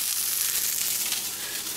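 A scrapple slice sizzles in a hot pan up close, a constant crackling hiss throughout without speech.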